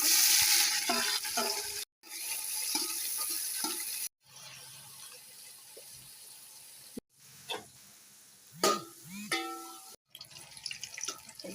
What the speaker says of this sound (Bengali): এই পেঁয়াজ ভাজা হয়ে গেছে লাল লাল করে।